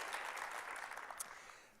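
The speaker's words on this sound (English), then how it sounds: "round of applause. Good job." A TEDx audience claps in a brief, faint burst of scattered applause that fades toward the end, heard at a distance and quietly.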